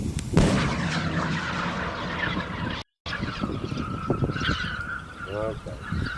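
A hail cannon in Fresno County fires a booming blast that echoes out, followed by rumbling outdoor background, a second fainter thump, and a brief honking bird-like tone near the end.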